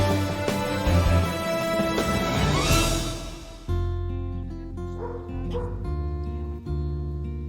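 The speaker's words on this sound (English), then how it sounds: "the Portuguese water dog. It is a special fisherman's breed emerging in the 15th century." A Portuguese water dog, the fisherman's breed, yips and whimpers over a dense bed of music, with short excited vocal bursts rather than full barks.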